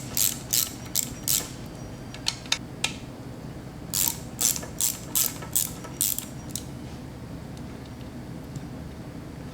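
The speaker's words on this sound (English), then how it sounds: "You're going to break off the 4 bolts that are holding the pillow blocks with the drum on." A ratchet clicks in quick bursts as four pillow block bolts are broken loose from a motorcycle shift drum, the ratcheting coming in two clusters separated by a pause, close and clear.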